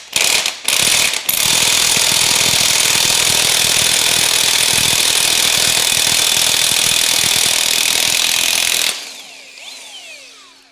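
Loud continuous rattling of an impact gun backing out a tightly torqued balancer bolt on an LS 6.0 engine, after a couple of short opening bursts, then cutting off to quiet clinking.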